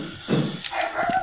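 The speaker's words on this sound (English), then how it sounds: "That dog is barking." A dog barks a few times in the video game Half-Life, short sharp yelps over a low electronic hum, fairly close.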